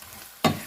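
Minced meat drops into a hot onion, garlic and ginger masala, and a sudden loud sizzle bursts up, then settles into a steady frying hiss.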